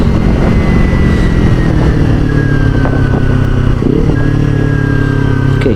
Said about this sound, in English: I'll just slow down the bike.